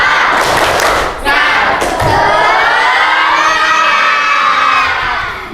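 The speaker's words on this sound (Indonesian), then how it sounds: "Oke, tepuk semangat." A high school class bursts into a loud group chant with rhythmic claps, the tepuk semangat, many young voices shouting together in a roomy space, with thumps early on and a sustained cheer rolling to the end.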